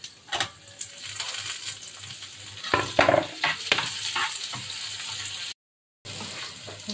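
Chopped tomato frying in a pan with masala for a small prawn dish, a steady nearby sizzle broken by scraping stirs and a few sharp clinks of a spoon against the pan, with a brief gap near the end.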